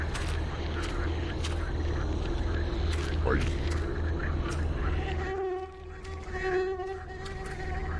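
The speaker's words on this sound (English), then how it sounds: "Fucking mosquitoes." Mosquitoes buzz and whine continuously in a video game swamp, with a higher, steadier drone in the background and a few brief sharper sounds layered over it.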